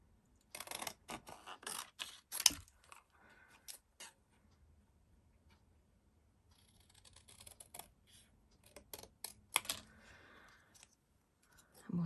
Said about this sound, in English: Get my bigger scissors just for cutting the sentiment out